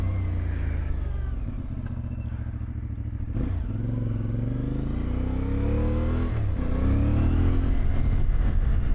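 CF Moto IBEX450 motorcycle cruising on a road, with a loud, close, continuous engine drone rising and falling in pitch through gear changes, plus steady wind rush.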